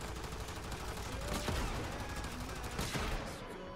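Primary weapon fire in the game Warframe, a dense, sustained burst of rapid shots over the whole stretch, loud and steady with a few sharper cracks standing out midway and near the end.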